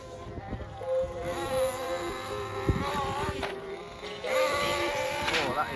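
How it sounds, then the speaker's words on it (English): Kyosho Inferno Neo 3.0 nitro RC car engine running rich, a high, buzzing whine that rises and falls with throttle blips, close by and steady over a light background hiss. "That is a very, very rich sounding motor."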